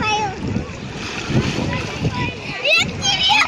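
A boy swimming in the sea splashes the water, with bursts of churning splashes and lapping waves. Children's voices talk and call out over the splashing, close to the microphone.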